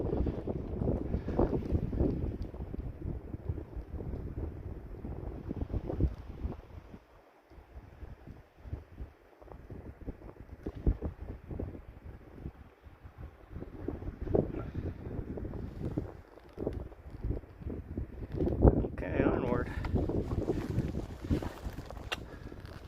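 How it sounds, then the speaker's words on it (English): Strong gusting wind on a mountain hiking trail between Trout Creek and McAfee Knob in Virginia buffets the microphone, giving a loud, continuous rough roar that surges and briefly eases, with no voices. "windy."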